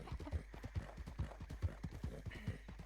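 Hoofbeats of a horse in a Western video game set near Thieves Landing, a steady quick clip-clop rhythm of roughly two beats per second, moderately close, with a brief higher tone near the end and no voices.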